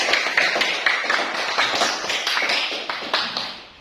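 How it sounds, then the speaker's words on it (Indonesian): A classroom of students claps for a classmate, a steady burst of many hands with sharp repeated claps close by, continuing alone throughout. "Silakan berikan tepuk tangan untuk"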